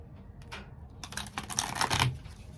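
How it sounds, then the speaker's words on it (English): Oracle cards are shuffled and pulled by hand, with soft scattered taps at first, then a denser, louder run of riffling and flicking, close and unaccompanied by speech. "So I'll pull some few cards and see."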